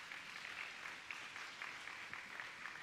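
Audience applause fills a Hawaii Catholic Schools choral festival in 2019, a dense, steady wash of many hands clapping together for about three seconds, fairly faint and without talk.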